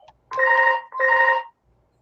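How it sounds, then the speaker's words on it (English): A phone rings in two electronic trills, each about half a second long and separated by a short gap, fairly loud and clear, with no talk. "It's Conker's phone"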